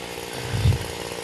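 A petrol-powered hedge trimmer runs with a loud, steady buzzing drone, swelling briefly as it bites into the hedge, with no voices.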